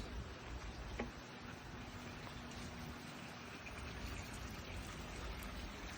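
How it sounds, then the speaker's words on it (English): Rain falls outdoors around a golden retriever, a faint, steady hiss with scattered drips and soft ticks, continuous and quiet throughout. "It is a-raining."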